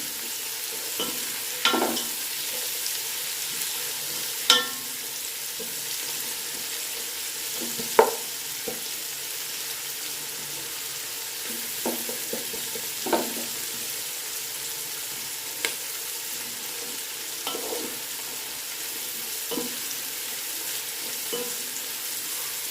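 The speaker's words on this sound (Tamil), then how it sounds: "ஓரமெல்லாம் அப்படி ப்ரௌன் ஆகிற மாதிரி வதங்கணும்." Onions sauté in a hot pan for vegetable brinji, giving a steady close sizzle with scattered scraping and clinking strokes as they are stirred. No one speaks.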